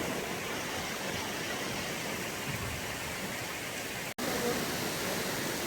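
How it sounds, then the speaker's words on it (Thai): A waterfall at Khao Yai gives a steady, unbroken rushing roar heard from nearby, constant in loudness apart from a brief cut near the end, with no clear talk over it. "ตรงนี้น้ำตกอะไรวะ"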